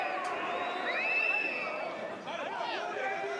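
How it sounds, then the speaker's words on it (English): A crowd at a UEFA Youth League under-19 football match between Red Bull Salzburg and Atlético Madrid makes a steady roar of chatter and cheering, with whistles and shouts rising in the distance and a commentator's voice over it. "Cheers from the crowd"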